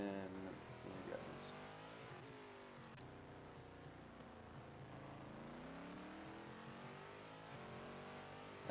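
A race car in a racing video game pulls out of pit road, its engine droning steadily and rising and falling in pitch, quiet and continuous with faint ticks.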